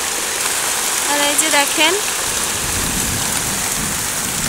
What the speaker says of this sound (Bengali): এখন একটু বেশি মানে জোরে পড়ছে বৃষ্টি, মেঘ ডাকছে